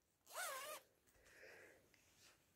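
A zipper on a fabric project folder is pulled open in one quick, crisp rasp, followed by faint fabric rustling and handling in a quiet room.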